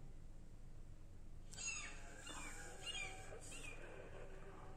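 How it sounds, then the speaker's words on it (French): Faint, distant seagull cries, a few high wailing calls drifting over a quiet background hiss. "Vous entendez les mouettes?"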